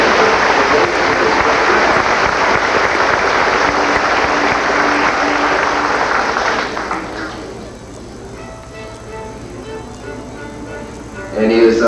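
An audience applauds a fiddle player in dense, steady clapping for about seven seconds, then the applause thins and fades into quieter room noise, with a brief rise again at the very end.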